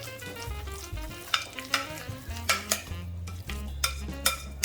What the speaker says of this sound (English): we're just gonna stir this mixture up